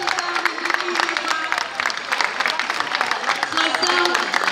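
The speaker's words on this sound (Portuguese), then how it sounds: "uma salva de palmas para o segundo classificado de Clube Braga" A crowd applauds at a summer youth football tournament trophy ceremony in Fiães, steady scattered clapping under a voice speaking over a loudspeaker.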